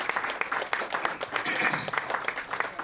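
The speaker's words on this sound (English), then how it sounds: "Big round of applause." Audience applause at a tech-day event: steady, full crowd clapping filling the room for a few seconds, with faint voices underneath.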